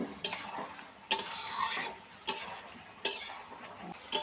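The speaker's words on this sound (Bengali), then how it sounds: "আমি চিংড়ি মাছগুলো দিয়ে দেবো, একটু চিংড়ি মাছগুলো দিয়ে নাড়াচাড়া করবো।" Prawns being stirred into spice masala in a pan, a spatula scraping in repeated strokes about once a second over a low sizzle, close and fairly loud.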